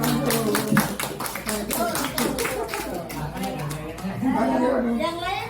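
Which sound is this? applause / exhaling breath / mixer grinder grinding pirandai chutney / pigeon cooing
applause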